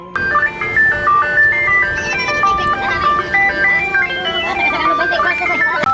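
A tinkly ice cream truck jingle plays its looping melody, bright and fairly close, with a vehicle engine humming underneath.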